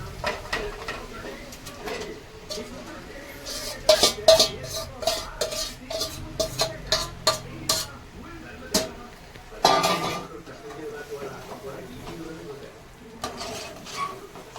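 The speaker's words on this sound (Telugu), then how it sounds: "బాగా కలుపుకొని మూత పెట్టుకున్నాం" A utensil stirs marinated chicken in a frying pan, producing a series of scraping clinks and knocks against the metal, with a soft sizzle underneath and a person talking.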